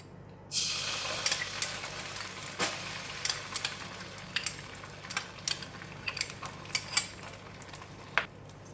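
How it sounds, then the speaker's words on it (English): Tomato ketchup going into a hot pan for sweet and sour tofu and being stirred, with a steady close sizzle and repeated scraping clinks of a utensil against the pan, no voices. "In the same pan, I'm going to put in the tomato ketchup"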